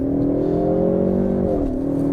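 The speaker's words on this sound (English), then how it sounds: "I'm gonna put the car in drive. I'm gonna put it in drag mode." A 2022 Ford Mustang EcoBoost pulling away hard in drag mode, a loud, close, sustained engine drone rising in pitch and then dipping briefly as it shifts.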